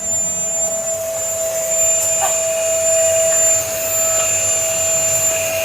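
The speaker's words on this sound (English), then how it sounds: "It's too full, that Hoover." A Hoover vacuum cleaner runs steadily inside a self-build van conversion, giving a constant loud motor whine with a high tonal hum and broadband airflow roar that holds level throughout.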